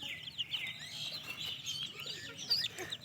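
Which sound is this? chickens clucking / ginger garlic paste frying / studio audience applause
chickens clucking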